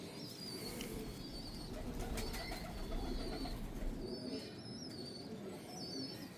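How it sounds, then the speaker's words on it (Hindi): Dub pigeon cooing among other birds, soft low coos under chirps and light wing rustling in a busy aviary-like setting. "खालस डब वाला कबूतर है"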